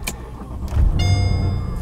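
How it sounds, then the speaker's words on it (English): Mercedes SL550 rolling slowly through a neighborhood, heard as a close low engine hum and road rumble with a brief mechanical whir partway through, no talking. "All right, driving the SL550. I'm gonna take it nice and slow around this area."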